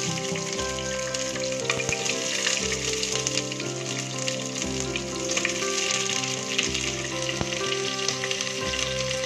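Sliced onions sizzle in hot oil in a pan, a continuous crackling fry with a faint background hum and scattered pops.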